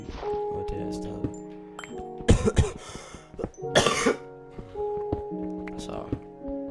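A sick person coughs in several loud, harsh bursts around the middle, with throat clearing, over quiet background sounds from the older version of Minecraft.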